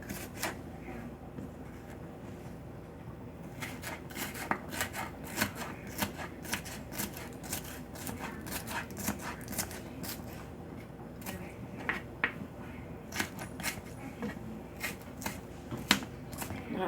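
A knife slices Brussels sprouts with a run of short, crisp taps against the board, quiet and close, with no talking.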